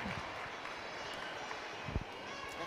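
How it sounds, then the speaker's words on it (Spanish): An arena audience applauds five rhythmic gymnasts at a competition, steady dense clapping throughout with a commentator's voice over it. "Cómo aplauden a estas 5 gimnastas,"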